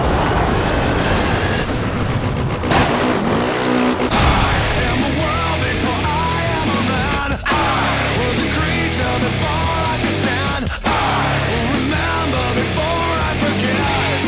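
Off-road racing vehicles roar through the MotorStorm game on PlayStation 3, a dense, loud wash of engine and mud-rumble with abrupt cuts and impacts, no talk over it.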